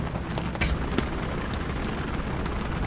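A helicopter in the video game Mirror's Edge Catalyst throbs as a constant rumbling drone, loud and close, with a brief sharper burst near the start.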